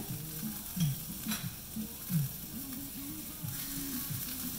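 A jalapeño sizzles in a cast iron pan with a soft, steady hiss and a few brief crackles. It sits close but quiet, under a low background hum.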